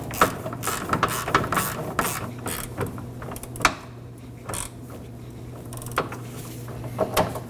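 Ratcheting wrench snugging down a 13mm bolt on the rear vapor canister of a 2015-2023 Nissan Maxima 3.5L V6, giving irregular close clicks and metallic ticks over a steady low mechanical hum.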